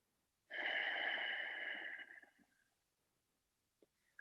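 A single slow, soft exhale during a gentle yoga stretch for neck and back pain, close and quiet, lasting about two seconds and fading out, followed by near silence.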